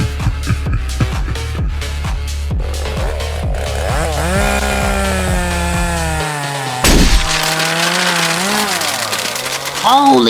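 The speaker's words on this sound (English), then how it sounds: "He picked up his chainsaw!" A chainsaw revs and runs loudly throughout, its pitch rising and falling as it is throttled, with a sharp crash partway through and no talking.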